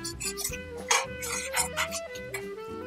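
Masala paste for egg curry gets stirred in a pan, giving soft repeated scraping and a faint sizzle in quick strokes, close up and without talking.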